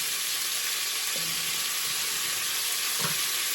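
Hands are washed under a running kitchen tap, giving a steady, close hiss of water that runs without a break, with a couple of faint knocks partway through.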